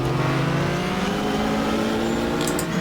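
A Porsche race car engine in the racing game GTR2 at Daytona, droning at a loud, steady high pitch with a slowly rising tone, plus a brief faint chirp near the end.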